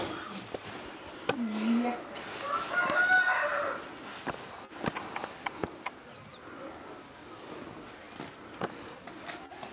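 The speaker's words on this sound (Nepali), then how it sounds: "भाले" A small rooster crows once amid the mixed sounds of a rural home, with people talking over and around it.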